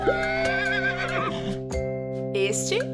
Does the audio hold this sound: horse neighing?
yes